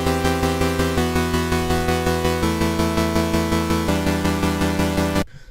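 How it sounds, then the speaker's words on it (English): Basic synth preset in an FL Studio plugin, bright buzzy sustained chords pulsing in a steady rhythm and changing pitch a few times before cutting off abruptly. "So this is a very basic preset I just made."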